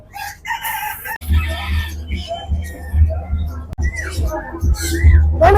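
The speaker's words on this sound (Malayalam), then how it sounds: "മയിലല്ലത് കോഴിയാണ്" Chickens cluck loudly nearby and a rooster crows, while people talk in the background, at the Chengannur Saras fair.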